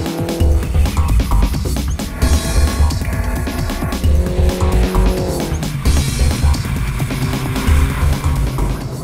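A Mini driving on a race track during a Bilstein suspension setup run, with a loud, close, continuous engine drone and shifting revs, tires warming up and occasional squealing.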